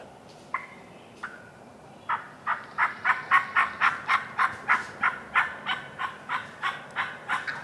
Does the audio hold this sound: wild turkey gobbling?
yes